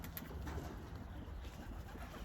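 Racing pigeons coo softly and steadily in a close, enclosed loft, with a low rumbling background and a few faint flutters.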